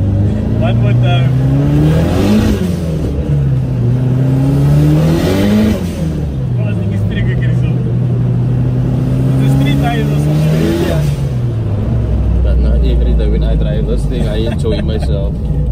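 A turbocharged Nissan Langley with an SR20DET engine accelerates hard through the gears, the engine note climbing and dropping with each shift, loud and close from inside the car, while people talk over it.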